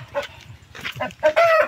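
Chickens cluck and a rooster crows at a poultry farm where the birds have just been fed, the calls coming close and loud in bursts, ending in a drawn-out crow.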